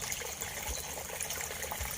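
Water flowing into a tilapia fish pond from an upstream river-fed source, a steady close trickling and splashing rush with no voices.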